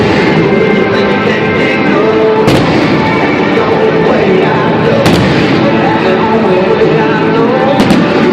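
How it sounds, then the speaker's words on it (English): Fireworks burst over Great American Ballpark in Cincinnati with three sharp, loud bangs a few seconds apart. A constant wash of crowd noise and voices fills the gaps between them. "Finish the night off with fireworks here at Great American Ballpark in Cincinnati."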